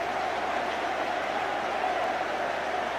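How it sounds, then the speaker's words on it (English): Steady, dense stadium crowd applause and roar after a goal in the 1997 FA Cup final between Chelsea and Middlesbrough, a continuous wash of clapping and cheering throughout. "applause all round."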